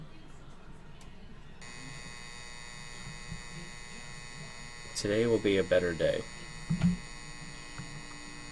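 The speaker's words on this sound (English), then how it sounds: "Please tell me I can shut the alarm off because that is really annoying." An alarm clock in a PC horror video game gives off a steady electronic buzzing hum that runs continuously under the scene. A voice speaks briefly partway through.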